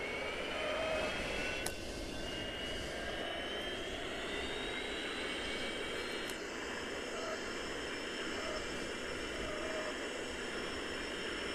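Boeing 737 jet engines roaring steadily on a takeoff roll in Seattle, heard from inside with a constant loud drone and rising whine, and a few faint clicks.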